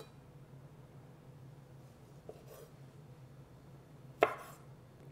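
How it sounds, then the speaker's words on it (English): A knife cuts grape tomatoes into quarters on a board, giving a couple of isolated chops, one soft and a louder one near the end, over a quiet low hum. "Now I'm going to chop up the tomatoes."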